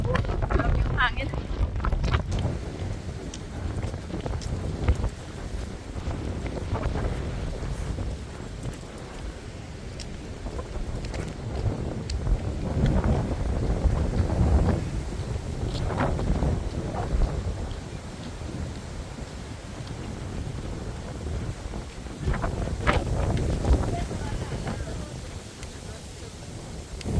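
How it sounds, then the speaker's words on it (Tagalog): Strong wind gusting through Longwood Gardens in Pennsylvania, a steady broadband roar and buffeting across the microphone that swells in several surges, with people occasionally talking underneath. "Grabe yung hangin."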